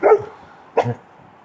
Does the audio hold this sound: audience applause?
no